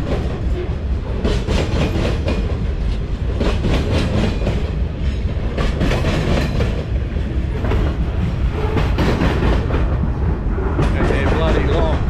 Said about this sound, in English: of course, is the grain trains.